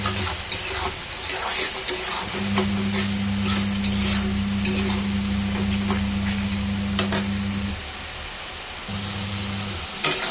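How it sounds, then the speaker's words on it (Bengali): Salted food fries in a pan with a continuous close sizzle and scattered stirring clicks, over a steady low electrical hum. "আর দেবো লবণ, আর অল্প ভাজবো।"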